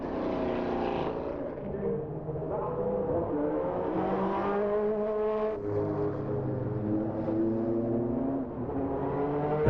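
Race cars at 1999 Le Mans qualifying, including an Audi, a BMW and a Nissan, with a continuous engine drone that rises and falls in pitch as cars pass, steady and fairly loud, no talk.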